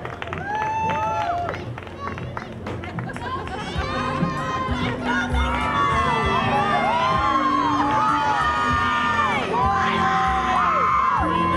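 A crowd at a county fair queen pageant finale cheers loudly, with whoops, shouts and applause building and holding steady throughout, with some voices mixed in.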